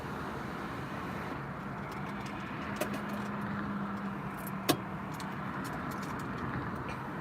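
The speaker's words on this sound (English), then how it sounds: "You're gonna hear a lot of traffic because there's a major street behind me." Steady traffic roar from a major street near a Las Vegas airport runway, heard from inside a parked car with the moonroof open, a continuous broadband rumble with a low engine drone and a couple of faint clicks.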